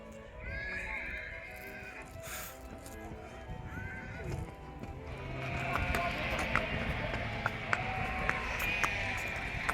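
Horses in Gulmarg whinny in drawn-out, quavering neighs while hooves clip-clop in quick uneven beats that grow busier and louder toward the end, over faint outdoor background noise.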